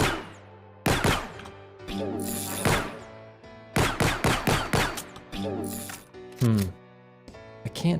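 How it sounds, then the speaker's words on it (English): Weapon fire in an Unreal Engine game, bursts of rapid sharp shots in quick clusters with pauses between, a mix of single cracks and short volleys. "This is weapon fire."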